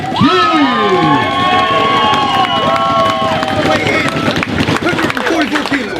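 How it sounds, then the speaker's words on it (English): Wedding guests at the speeches clap and cheer loudly as one crowd, with shouts and whoops rising over steady applause and voices talking through the noise. "Keep clapping, guys."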